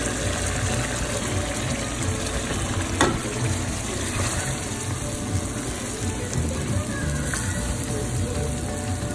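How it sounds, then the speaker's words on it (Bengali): Fish and pointed gourd stir-fry in a pan with a steady, dense sizzle and hiss that holds at an even level throughout, with a faint scrape near the middle and no talking. "তো মিক্স করাম মাছ দিয়ে পটল এগুলোকে।"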